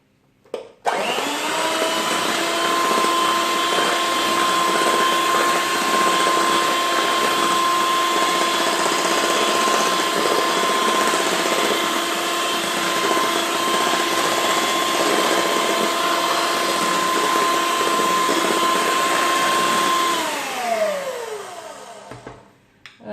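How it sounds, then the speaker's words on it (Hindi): An electric hand beater whirs steadily while mixing a mango ice cream mixture in the kitchen, running loud and continuous for about twenty seconds before winding down. "इसमें डालने के बाद मैं अब इनको एक दफ़ा बीटर से मिक्स करूंगी।"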